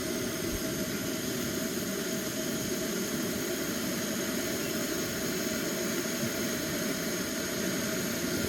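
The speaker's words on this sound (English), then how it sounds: "Sounds like it's getting ready to boil, doesn't it?" A camping gas stove on an MSR canister roars steadily under a pot of water heating toward a boil, a constant, close, hissing rush with a low rumble and no breaks.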